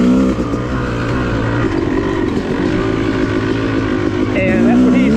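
A Beta 300 dirt bike running along an off-road trail, its two-stroke engine droning steadily and rising in revs toward the end, heard close and loud.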